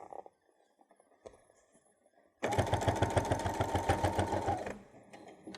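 A sewing machine runs a steady burst of stitching on a travel pouch, close and loud for about two seconds after quiet handling noises, then winds down.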